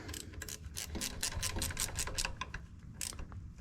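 A ratchet tightens bolts on the clutch of an Oliver 660 tractor, producing a steady run of fast, close clicking strokes, moderately loud, with a brief pause before a final burst.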